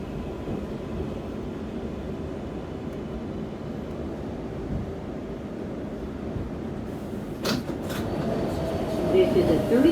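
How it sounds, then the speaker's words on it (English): An R142A 7 subway train runs between stations toward 34th Street–Hudson Yards, a steady low rumble and hum from on board, rising slightly near the end with a brief screech. "This is a 34th Street Hudson Yards bound 7 train."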